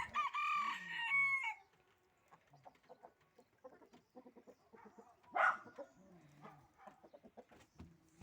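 A village rooster crows loudly near the start, then softer scattered clucks and bird calls follow, with a sharper call midway through a quieter farmyard background.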